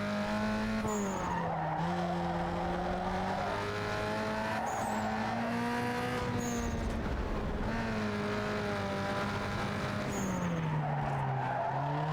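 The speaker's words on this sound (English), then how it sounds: "Oh, I hit the handbrake too hard." Car tires skidding and squealing after an overly hard handbrake pull in the street-racing game Need For Speed Underground 2, with a loud engine drone and long wavering screech running through the whole stretch, no talk.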